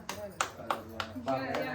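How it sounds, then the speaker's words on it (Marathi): Hands clapping at a family 10th wedding anniversary celebration in Beloshi: a few quick, light claps in a steady rhythm, mixed with people talking over them. "टाळ्या वाजवा"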